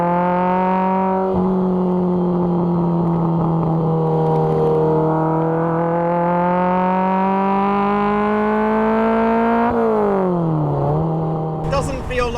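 A classic Ferrari engine hums steadily while driving, a strong harmonic drone that holds pitch, dips briefly near the end, then climbs again, loud and close throughout.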